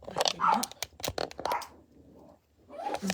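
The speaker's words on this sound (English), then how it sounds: "excuse the dog." A dog barks indoors in a quick run of sharp, close barks with scratchy whimpers between them, pausing briefly before another bark starts.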